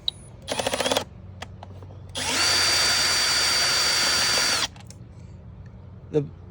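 A power drill drives an 8mm deep well socket on a Suzuki EFI tiller outboard motor: a short ratcheting burst, then a long steady whir of about two and a half seconds, close and loud.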